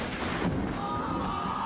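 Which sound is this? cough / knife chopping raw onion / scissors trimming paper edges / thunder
thunder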